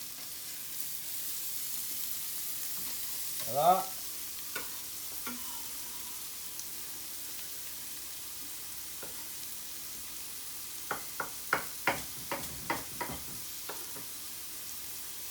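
Chopped leeks hitting olive oil and butter in a hot sauté pan, a soft stirring scrape early on, then a run of short sizzling crackles and pops near the end, fairly quiet overall with no talk over it.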